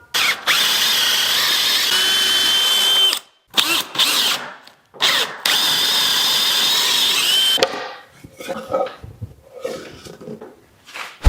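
A power drill whines loudly as it bores mortises into a wooden chair seat in several bursts separated by brief pauses, followed by quieter clattering and handling noises.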